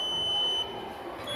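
Buzzer of an infrared-sensor door security alarm sounding as a steady, loud electronic tone that holds throughout, alone with no talk.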